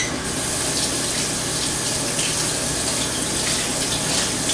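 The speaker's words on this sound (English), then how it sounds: "Just wash the dirt off." Running tap water washes dirt off jalapeno seeds, a steady, loud, close gushing splash that continues without a break.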